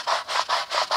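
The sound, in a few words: brush scrubbing a car surface with enzymatic cleaner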